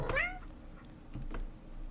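A short, bright meow from a black video-game cat with gold-flecked fur, heard once near the start before the scene falls quiet with faint background sounds.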